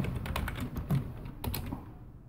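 Text being typed on a computer keyboard, with a quick, close run of light key clicks in an uneven rhythm that tails off into quiet at the end.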